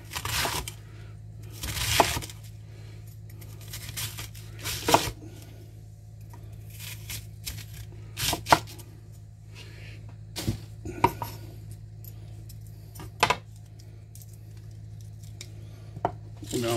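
Knife cutting napa cabbage for kimchi on a board, a few crisp separate chops spaced out over a steady low background hum, with no talking.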